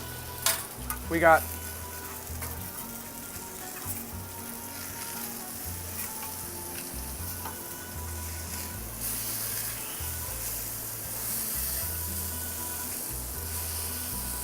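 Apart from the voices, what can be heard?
salmon sizzling in a frying pan after being flipped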